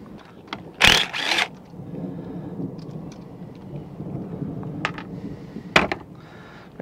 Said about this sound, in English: We hear some thunder rolling.